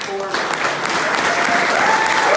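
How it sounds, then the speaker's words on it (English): Applause breaks out from the crowd at the official opening of Grace Gardens, greeting Gail and the board with steady, dense clapping; a voice is heard briefly at the start. "let's give a huge round of applause to the leadership of Gail and the"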